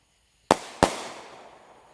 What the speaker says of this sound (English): Got 4 more mortars.